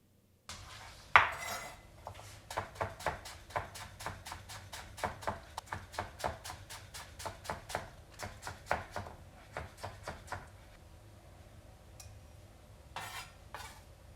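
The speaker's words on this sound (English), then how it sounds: "basically we're just going to slice this as thin as we can." Green onions, ends already trimmed and cleaned, sliced as thin as possible with a knife on a cutting board: a steady run of quick, crisp chops in close succession, loud and near, with no talk over them.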